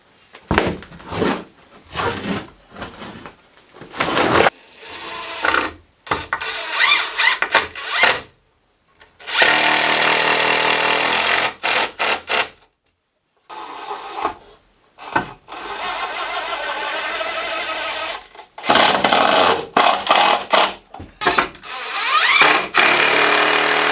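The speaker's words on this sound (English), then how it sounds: "I'm going to screw it from this side, and then I'm also going to screw it in through the top once I put the decks on" Power drill driving screws into the wooden frame of a homemade goat milking stand, with repeated bursts of whirring, loud and close, separated by short pauses and clattering handling noises.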